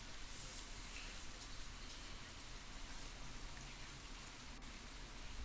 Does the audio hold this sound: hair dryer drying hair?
no